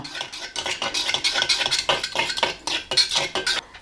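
A fork repeatedly breaks up curd lumps in a bowl, giving a rhythmic run of close clinks and scrapes against the bowl, with no voices.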